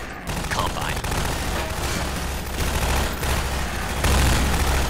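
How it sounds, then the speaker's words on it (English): Combine soldiers firing rapid bursts of gunfire in the shooter game Half-Life 2, a dense continuous rattle of shots with booming impacts throughout. "Oh, they're firing on that thing."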